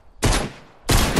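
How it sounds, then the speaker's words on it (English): Two close, loud bursts of gunfire come from a Fortnite match. A pump shotgun blast is followed after a short gap by rapid SMG fire. No voices are present. "we're going to hit them with the pump and then switch to our SMG"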